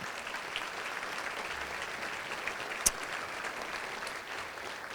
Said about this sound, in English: We could all give them a round of applause.